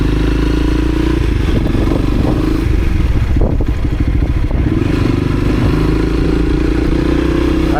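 A Honda CRF300L motorcycle engine runs loud and close throughout a ride around Venice Beach, California, its steady drone rising and falling slightly with rattling and clatter mixed in.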